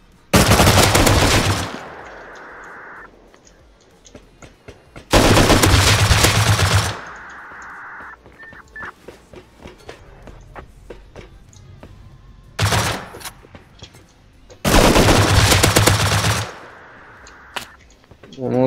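M2 machine gun in the game Rust fires in four loud, rapid bursts separated by quieter stretches with scattered distant shots and voices talking.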